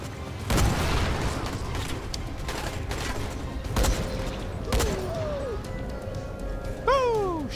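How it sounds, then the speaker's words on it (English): Explosions and gunfire in the video game Dying Light during a bandit fight: a loud, dense run of booming blasts and rapid shots with whooshing sweeps, heard over a steady game backdrop. "Ah, explosions!"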